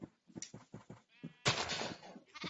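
Sheep in the Minecraft-like game Hungry World bleat in a quick run of short, close calls, then give one longer, louder bleat and another brief call at the end.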